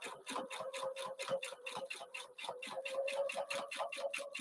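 A Husqvarna Viking sewing machine with a clear seam guide foot stitches a seam, its needle hammering in a fast, steady mechanical rhythm that stays quiet and close, with no talking.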